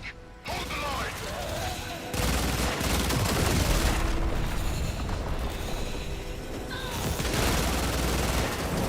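Sustained gunfire and mechanical clatter in Warframe combat, continuous loud volleys with ratcheting weapon mechanisms layered through the whole stretch, no pauses.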